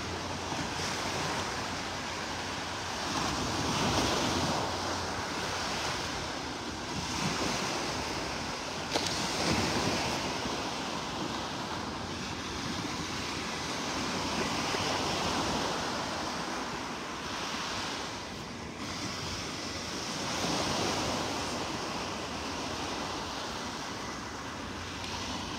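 Ocean waves and surf roll in steadily on Vanderbilt Beach in North Naples, Florida, a broad continuous wash with gentle swells and some wind noise, heard alone with no voices.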